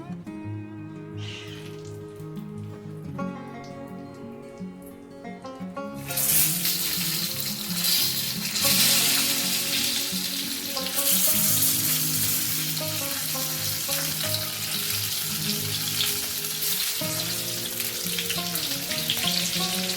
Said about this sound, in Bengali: আমি গ্যাসটা একদম কম করে নিয়েছি আর হালকা করে এগুলোকে ভাজবো।